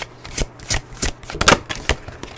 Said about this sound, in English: This one showed up too whenever I was shuffling.